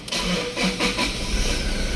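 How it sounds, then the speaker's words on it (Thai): A Toyota Revo pickup with a high cargo cage cranks over in a few quick pulses, then catches and settles into a steady, close engine rumble. "อ่ะฟังเสียงเครื่องยนต์กันหน่อยว่าเป็นยังไง จะสตาร์ทติดง่ายแค่ไหนนะครับ"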